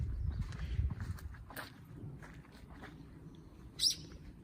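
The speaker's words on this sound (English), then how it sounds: "Good morning, bird." A single bird chirps briefly and fairly close near the end, over a soft rustling outdoor background on a misty morning in a tea field in the Japanese countryside, with faint footsteps of a morning walk.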